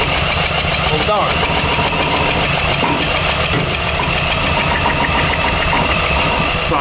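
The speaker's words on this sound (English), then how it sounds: "I don't think we're spinning this engine fast enough for the charging system to create enough power to power the coil" A seized Honda Ruckus moped, recovered from the woods, cranks without catching, a continuous loud mechanical churning and whirring with people talking over it.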